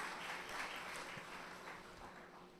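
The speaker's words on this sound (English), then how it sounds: "So can we give another round of applause to our previous participants?" A large audience at a CARIFESTA cultural festival event in Barbados gives a round of applause for earlier performers, a broad, even wash of clapping that fades slightly toward the end.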